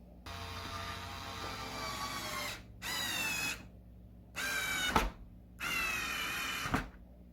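Cordless power drill driving screws into wood for a rolling computer stand dolly cart, in four loud close bursts of whining motor that rise in pitch, separated by short pauses, with no talking.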